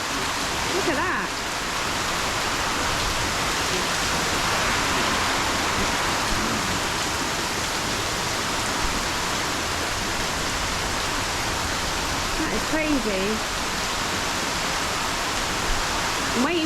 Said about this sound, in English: I guess it's just the pure force of the rain.